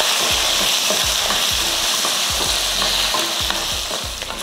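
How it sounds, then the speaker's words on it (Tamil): Shallots and garlic sautéing in hot oil for a chutney crackle in a loud, continuous sizzle, punctuated by regular scraping strokes of a stirring spoon against the pan. "வெங்காயம் வெள்ளைப்பூண்டு போட்டு நல்லா வதங்கினதுக்கு"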